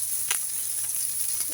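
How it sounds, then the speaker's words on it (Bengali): Onion and garlic fry in a pan for okra bharta, giving a steady, close sizzling hiss with no voices. "পেঁয়াজ রসুনগুলো আমার ভাজা ভাজা হয়ে গিয়েছে"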